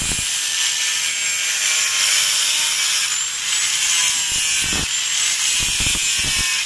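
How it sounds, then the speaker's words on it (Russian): An angle grinder fitted with a plain disc trims the ends of wooden boards for a homemade bench, giving a steady loud, harsh whine throughout, with a few low thuds of handling near the end. "Теперь я вот болгаркой беру, вот таким простым диском. Сейчас здесь все подровняю, вот эти все концы на всех досках."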